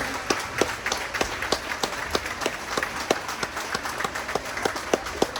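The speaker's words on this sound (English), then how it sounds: "Let's give them another round of applause." A crowd at a school fall sports team introduction applauds steadily, with distinct claps repeating in a loose, rhythmic pattern throughout.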